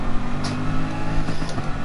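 A race car engine in Gran Turismo Sport droning at steady revs, loud and close, with a couple of brief clicks and surges over the continuous hum.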